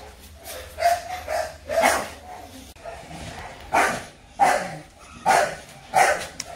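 Several American Bully puppies bark and yip in repeated short bursts, fairly close, with brief gaps between the barks.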